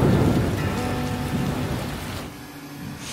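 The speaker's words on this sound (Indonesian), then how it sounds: "Hujan." Heavy rain pours down with thunder rumbling through it at night outside a small hut in a Malaysian village, a loud, steady wash that eases slightly toward the end.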